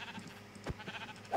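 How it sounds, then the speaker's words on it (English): Minecraft sheep giving a single short bleat, with a brief low thump at the middle and soft game ambience around it. "Should we kill some more sheep?"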